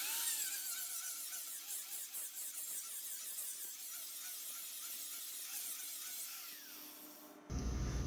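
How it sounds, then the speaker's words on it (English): A fresh grinding disc smooths a DIY metal fin on a custom rear bumper for a Suzuki Grand Vitara, giving a continuous high-pitched whine and scraping hiss under light pressure, close and steady until it cuts off near the end. "what I want to do is use a brand new disc that's going to require very minimal pressure from me, and this should clear this up real quickly"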